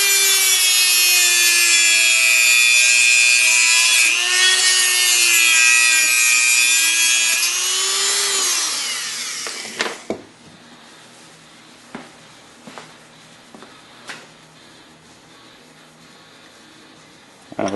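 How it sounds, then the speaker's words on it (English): A Dremel rotary tool cuts through a taped throttle cable for a 33mm carb on a junior dragster, a loud high whine wavering in pitch for about nine seconds, then stopping, followed by a few faint clicks and knocks. "Now I'm going to take my Dremel"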